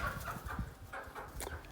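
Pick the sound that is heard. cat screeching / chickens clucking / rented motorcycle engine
chickens clucking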